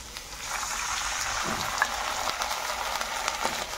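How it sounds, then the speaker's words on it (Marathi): Water hits a hot pan for upma, giving a continuous hissing, bubbling wash with faint scattered pops, close and steady. "रव्यासाठी मी इथं 3 वाटी पाणी टाकून घेणार आहे।"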